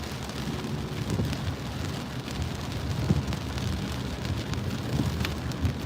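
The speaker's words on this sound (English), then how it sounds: "So at least it's not a freezing cold rain." Rain falls steadily outdoors with a dense, even hiss, and occasional louder drops spatter close by.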